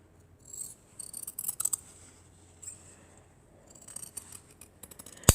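Scissors cutting quilt fabric at close range: several bursts of crisp snipping and slicing separated by short quiet pauses, with a louder snip at the very end.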